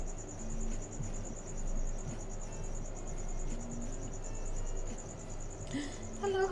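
Crickets chirp in a steady, rapid pulsing trill that runs unbroken through the whole stretch, held at a constant level over a low background hum, with a brief clatter near the end.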